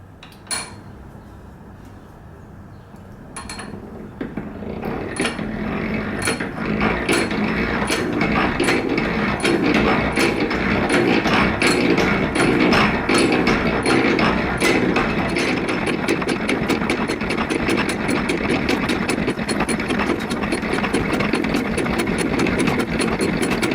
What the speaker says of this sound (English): get my counterbores in for my saw nuts